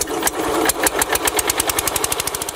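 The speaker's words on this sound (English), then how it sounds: "I'll leave the engine running." A 1940s petrol-powered compressor engine runs steadily, its rapid even chugging firing pulses close and loud, with a slightly rougher patch early before settling into a regular rhythm.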